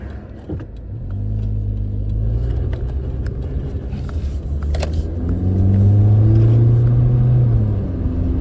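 A large truck rumbles past nearby, its low engine drone swelling louder toward the end, heard from inside a running 1997 Toyota Corolla.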